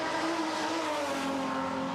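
Jaguar V12 touring car racing across the top of the mountain at Bathurst, its engine howling loud and steady under full power for the whole stretch, with a faint hint of tyre noise.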